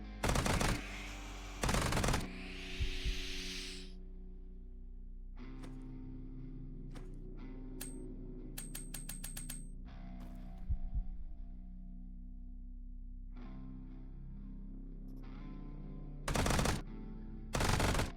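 Gunfire in the tactical game Quasimorph: several loud, short bursts spaced apart, at the start, around two seconds and near the end, with quieter mechanical clicks and a low hum between them.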